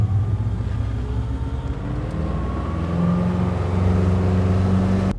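A Cruiser Sport Series 258 boat engine drones steadily from close by, its low rumble rising slightly in pitch as it speeds up, with water rushing along underneath.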